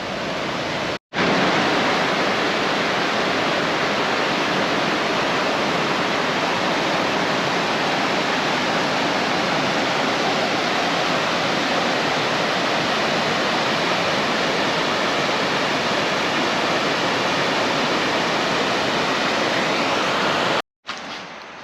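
Josephine Falls in Far North Queensland roars as a continuous, loud, broadband rush of falling water, steady for about twenty seconds with no voices.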